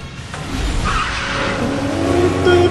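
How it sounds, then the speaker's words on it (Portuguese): In the video game Lego Batman 2, a vehicle drives along with a continuous engine drone and tires skidding and squealing, loud and steady throughout. "Ó, estamos aqui dirigindo, hein?"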